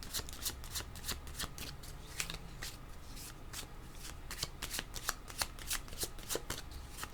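Tarot cards being shuffled by hand in a steady run of quick riffling flutters and taps, close and clear for several seconds with no talking.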